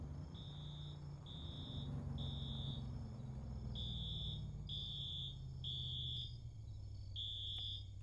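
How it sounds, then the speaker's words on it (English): An electronic alarm beeps in a steady series of about seven short, high, shrill tones, fairly loud over a low rumbling background with no talk. "What's that alarm?"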